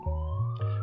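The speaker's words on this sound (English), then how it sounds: "Can you hear the ambulance going outside?" An ambulance siren passes outside and carries indoors as a steady, loud electronic wail that rises in pitch over a brief moment.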